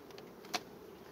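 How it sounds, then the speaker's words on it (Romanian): Honeybees working at a hive give off a soft, steady buzzing hum, faint and close, with one brief sharper tick partway through. "Bine, deci albina acum este în plin lucru, lucrează."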